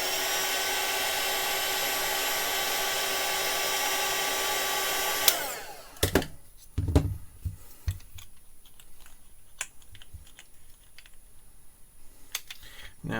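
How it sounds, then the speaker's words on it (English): Hot air gun blowing a steady, loud, whirring roar while flywheels are fitted, running alone for about five seconds, then cutting off and leaving scattered taps and handling clicks. "I really should probably stop trying to do narration with the air gun on."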